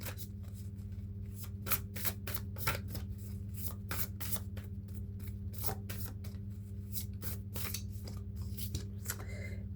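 Cards being drawn and laid out during a tarot-style reading, a series of crisp close flicks, slides and taps in an irregular rhythm over a low steady hum, with no talking.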